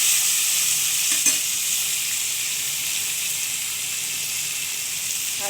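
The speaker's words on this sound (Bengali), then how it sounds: "এবার কুমড়োটাও তুলে দিয়েছি, কাঁচা লঙ্কা দুটো দিয়ে এটাকে ভালো করে নেড়ে চেড়ে" Pumpkin fries with black cumin and two green chilies in a pan, a constant close sizzle with a sharp utensil knock early on and steady stirring throughout, no talking.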